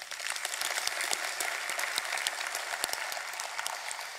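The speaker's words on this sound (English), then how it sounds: "So I want to take a moment to give them a round of applause" A conference plenary audience gives a round of applause for the event crew, many hands clapping densely and steadily at moderate distance.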